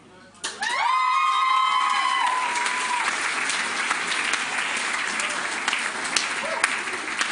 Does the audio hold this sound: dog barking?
no